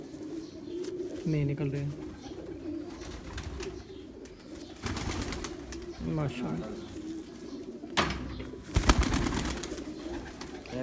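Jugnu pigeons, a fancy breed kept on a rooftop loft, coo in low rolling bursts that recur across the clip, close by, while someone talks over them and a few sharp knocks land near the end.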